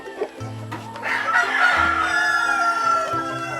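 Laying hens in breeding pens on a farm cluck and squawk at feeding time, with a rooster-like crow rising among the close, busy flock noise.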